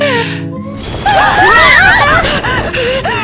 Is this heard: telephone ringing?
yes